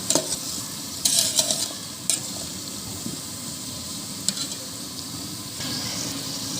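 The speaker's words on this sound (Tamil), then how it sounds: "வெங்காயம் சேர்த்து நல்லா வதக்க ஆரம்பிக்கலாம்." Onions sautéing in a large pot for a big batch of vegetable biryani, a steady close sizzle with several loud scraping stir strokes early on and occasional clanks, no talking.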